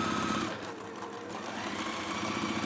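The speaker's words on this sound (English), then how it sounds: "I'm going to just sew down the other side now" A sewing machine stitches down a seam on a cherry stone neck warmer, running steadily and close up with a continuous rapid mechanical whir and no speech.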